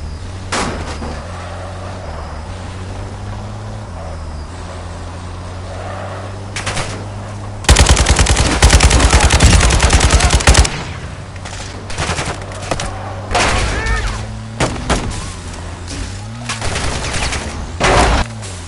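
Gunfire in the video game Friday the Continuum: a dense burst of automatic fire erupts midway for about three seconds, loud over a steady engine drone, with scattered shots and impacts continuing afterward.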